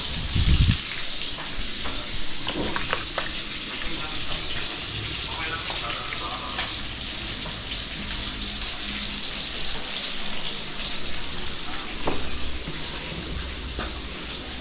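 Oil sizzling steadily in a pan as onion and tomato fry, a continuous close hiss with a few clinks, while people talk over it.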